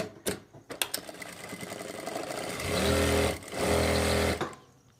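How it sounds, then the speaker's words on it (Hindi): An electric sewing machine runs in bursts while stitching palazzo pants fabric, with short starts followed by two sustained, steady whirring runs close by, separated by a brief pause. "यहाँ से सिलाई लगाना स्टार्ट करना है।"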